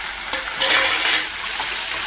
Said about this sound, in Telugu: కొద్దిగా ఆయిల్ వేసి ఉల్లిపాయలు కూడా ఎగిరి కదండి, ఉల్లిపాయలు వేసుకున్నాను